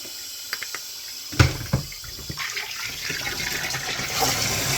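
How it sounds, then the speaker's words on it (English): Hot tap water pours steadily into a basin with dish soap for washing barn-find figures, starting with a sudden gush and then settling into a continuous, close, moderately loud rush with no talking. "I'm basically just running all hot water into it"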